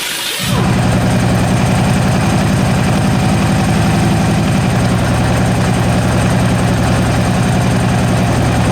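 Harley-Davidson touring motorcycle engine (2009–2016) with newly replaced front motor mounts, starting and then idling loudly and close with a steady, throbbing low rumble.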